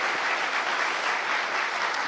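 A church congregation applauds at a thanksgiving service for a retirement and ordination ceremony, a full, even burst of clapping without talk.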